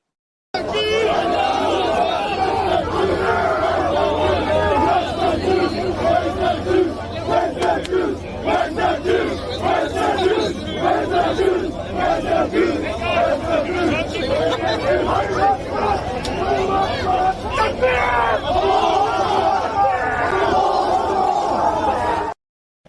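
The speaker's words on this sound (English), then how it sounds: "So you literally had a crowd of protesters, and they were yelling" A dense crowd of protesters near the Opera House yells and chants continuously, rough massed voices overlapping at full volume throughout, played back from a video recording.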